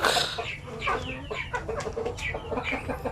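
Several native chickens cluck and chatter close by in a busy, overlapping stream of short calls.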